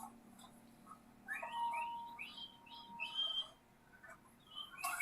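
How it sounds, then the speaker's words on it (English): Quiet, tuneful whistling carries from a distance: a few short rising and falling notes in a loose melody over faint background hiss. "Who the hell is whistling? Why is he whistling?"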